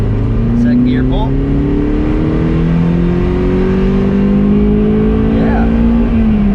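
Toyota MR2 SW30 with a six-speed manual pulling hard in second gear, its engine drone rising steadily in pitch from inside the cabin for several seconds, loud and continuous, with faint voices underneath.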